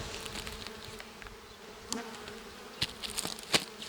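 Honeybees buzz steadily at an opened beehive during the move of a brood nest from an alpine-style hive, the soft drone holding throughout with a few sharper close knocks and clicks from handling frames.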